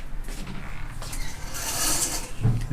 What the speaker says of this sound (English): Looks like an old corral wooden door.